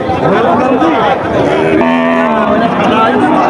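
Cattle at a busy rural cattle market where local and crossbred cows are bought and sold, with a cow's low moo rising over crowd chatter and a nearby voice talking.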